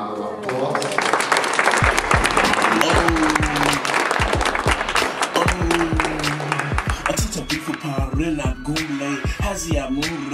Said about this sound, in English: The Polight family, let's give them a round of applause.